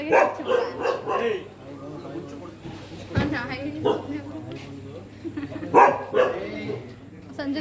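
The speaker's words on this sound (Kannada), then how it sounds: "ನಾಯಿ ಒಂದು" A dog barks a few times, sharp yaps scattered among lively voices talking close by.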